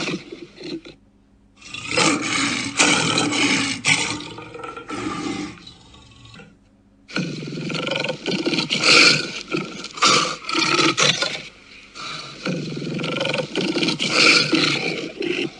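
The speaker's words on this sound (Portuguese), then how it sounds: "Lion," A lion roars in long, loud rumbling bursts, one before a short pause and another continuous stretch after, with no voices present.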